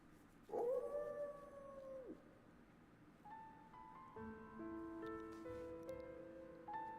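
A dog howls once in a rising, wavering cry from the video game Corgi Space, then gives way to sustained synthesized musical tones over a low background hum, with no talking.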